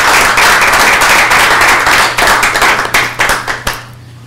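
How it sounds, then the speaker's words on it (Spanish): A room of people applauds for a man named Iván after a past-life regression demonstration session at a hypnosis training, dense steady clapping that thins into a few scattered claps near the end. "Un aplauso para Iván."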